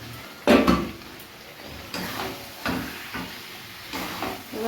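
Chunks of potato dropped into a pot of Bengali chicken curry, a loud clattering splash followed by several softer knocks and stirring scrapes against the pot.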